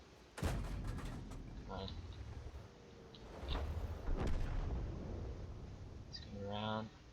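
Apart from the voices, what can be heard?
tank cannon firing in a video game, M4A3E2 Sherman Jumbo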